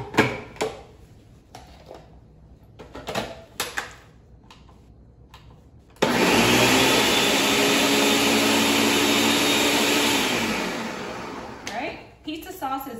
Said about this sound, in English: We're gonna put that in the blender and just quickly blend it together